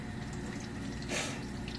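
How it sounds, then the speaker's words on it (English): A hand is rinsed under running tap water at a sink, giving a steady close hiss and splash that swells briefly near the end. "I'm going to rinse my hand in water"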